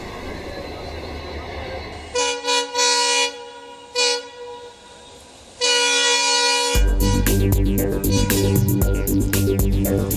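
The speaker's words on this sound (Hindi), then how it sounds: "देश की सबसे तेज चलने वाली ट्रेन गतिमान एक्सप्रेस की रफ्तार को पीछे छोड़ने के लिए आज ट्रैक पर उतरी टेल्गो ट्रेन" A Talgo train on a trial run along the track, with loud sustained rumble of rolling wagons and repeated long horn blasts, then a heavy close pass that fills the scene.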